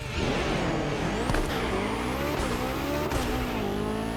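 A Porsche 919 Street hypercar in The Crew Motorfest racing game launches hard, engine screaming steadily upward through quick gear changes, loud and continuous without talk.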